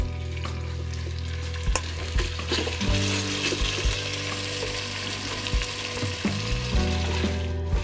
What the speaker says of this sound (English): And we'll put in the beef, like so.